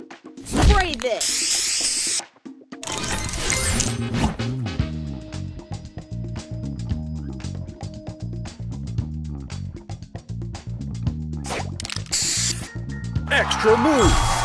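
Spray booster effect from the Match Masters puzzle game, a hissing spray burst at the start and another near the end, set against a continuous bed of game music and chimes.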